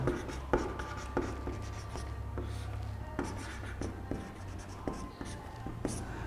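Chalk or pen writing on a board or paper during a Class 11 science lesson, a steady run of scratchy strokes and taps in uneven rhythm, heard close under a teacher's ongoing speech.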